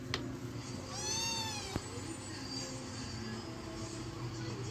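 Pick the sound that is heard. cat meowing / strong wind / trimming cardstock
cat meowing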